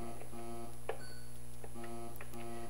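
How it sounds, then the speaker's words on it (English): Soft electronic beeps from the video game Battle for Castle Arandale blip repeatedly over a steady droning hum, quiet and evenly spaced. "That beep beep is me trying to go left and right just to see if I'm in."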